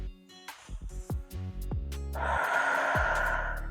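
A slow, breathy exhale during a yoga shoulder stretch, a broad airy rush lasting over a second near the end, preceded by softer gasping inhales amid faint tonal background sounds.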